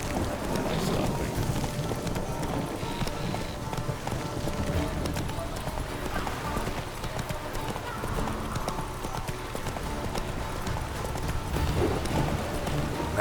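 Horse hooves in The Witcher 3 clip-clop in a fast, steady galloping rhythm throughout, mixed with wind and game ambience, while a voice speaks over it.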